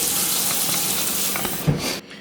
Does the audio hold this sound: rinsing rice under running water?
yes